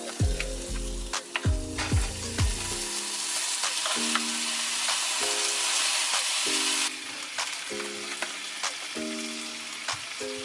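Hot Italian sausages, tomatoes and green onions fry in a pan with a steady close sizzle, broken by repeated sharp clicks and taps of a utensil against the pan, with no talking.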